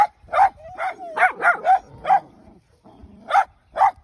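Several sharp, high barks and yips from small dogs in quick bursts, with short pauses between, close by and fairly loud.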